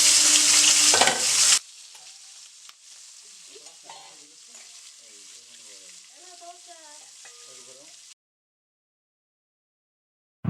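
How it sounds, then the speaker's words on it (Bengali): Large tangra fish fry in oil in a wok: a loud, dense spatter at first, then a steadier, quieter sizzle with faint tonal sounds mixed in, before the sound cuts to silence. "এবার এক এক করে মাছগুলো ভালোভাবে ভেজে নেব।"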